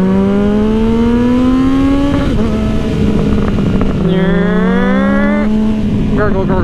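A car engine revs up and down in several rising and falling sweeps, its exhaust burbling with a gurgling note, loud and close.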